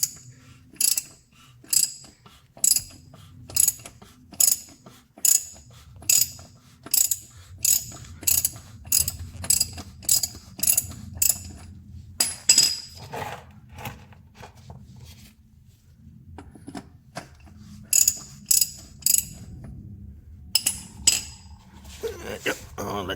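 A ratchet wrench clicks in quick bursts of rapid pawl ticks while loosening the 17 mm oil drain plug under a 2012 Hyundai Genesis, close and repeated with brief pauses between strokes.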